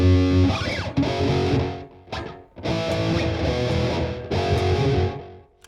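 Distorted electric guitar run through a tape echo effect gives a dark 1980s-style tone, playing loud, sustained chords with smeared repeats trailing after each strum, one brief dip midway, and no voice.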